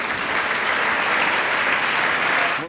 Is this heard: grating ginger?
no